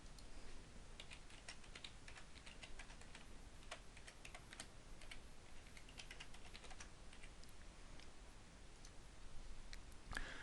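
Quick, faint clicks of typing on a computer keyboard, a steady run of keystrokes in a quiet room.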